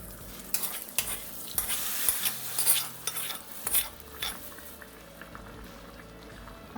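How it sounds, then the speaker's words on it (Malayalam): Hot tempering is poured into a coconut mackerel (aila) curry and sizzles in bursts, with spoon and pan clatter and bubbling close by. No one speaks. "നമുക്ക് ഈ താളിപ്പൊന്ന് ഒഴിച്ചു കൊടുക്കാം"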